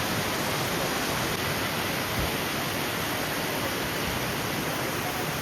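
Waterfall on the Silk Route in Sikkim, running low in winter, giving a dense, steady rushing wash of falling water that stays even and unbroken throughout with no voices.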